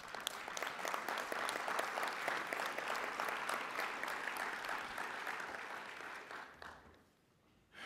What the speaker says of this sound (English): I think you need to give yourself a round of applause.